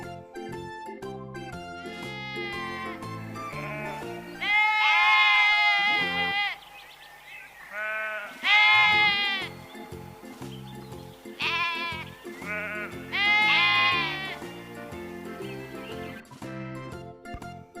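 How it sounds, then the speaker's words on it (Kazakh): Sheep bleating in a series of loud, wavering calls, several bleats spaced over the span, with children's background music running steadily underneath. "Қой."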